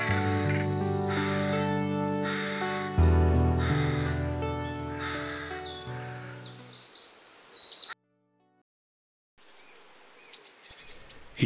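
Crows cawing around their chicks, harsh overlapping calls repeated loudly for several seconds close by, then a break and quieter outdoor ambience.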